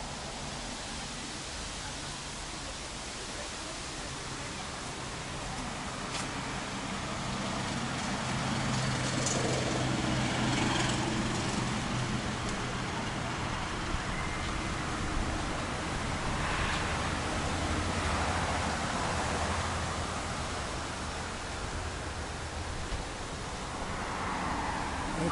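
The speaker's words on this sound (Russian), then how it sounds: "Ветер шумит." Steady rushing wind buffets the microphone in Anapa, a broad, continuous roar that swells and eases slightly throughout, with faint traffic beneath.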